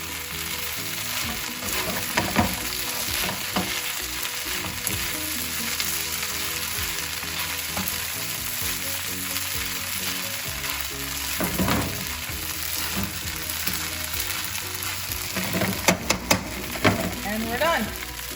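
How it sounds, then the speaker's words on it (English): Shrimp, vegetables and green onions stir-fry in a pan with curry paste for Singapore curry noodles, a steady loud sizzle running throughout with scraping tosses and a few sharper clinks near the end. "We're gonna add the vegetable in, my beautiful shrimp, my gorgeous green onions."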